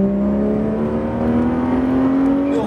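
A car accelerates hard on a driving track, its engine holding a loud, steady drone with a pitch that climbs slowly across the whole stretch, close and continuous with no voices.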